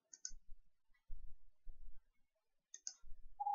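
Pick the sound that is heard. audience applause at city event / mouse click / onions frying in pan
mouse click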